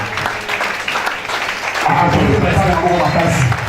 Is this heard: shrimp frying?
no